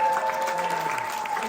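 Applause from an audience at a campaign event for an attorney general candidate, a short burst of steady clapping from a crowd, fairly loud, with a thin tone running beneath it.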